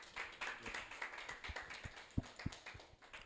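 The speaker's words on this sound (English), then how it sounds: "I think a round of applause for the panelists, please" Sparse, scattered claps from a small meetup audience thanking panelists, individual hand claps distinct and uneven rather than a full ovation, fairly quiet and close.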